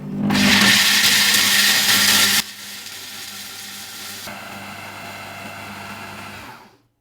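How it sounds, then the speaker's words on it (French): A food processor grinds roasted peanuts into powder at full power, a loud steady whir for about two seconds that drops to a quieter, even spinning drone before stopping. "Puis je fais tourner mon robot à pleine puissance pour réduire déjà ces cacahuètes en poudre dans un premier temps."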